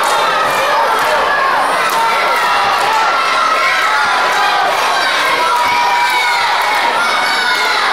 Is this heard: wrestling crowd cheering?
yes